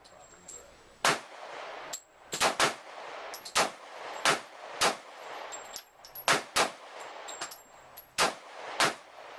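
SIG Sauer P290 9mm pistol fired at a shooting range, a series of sharp, loud single shots spaced irregularly about a second apart, with faint metallic pings between them.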